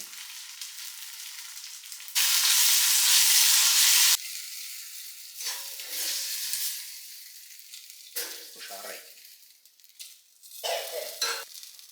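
Mustard seeds, dried chili and curry leaves hit hot coconut oil in a small pan with a loud, steady sizzle lasting a couple of seconds, followed by quieter crackling and stirring bursts.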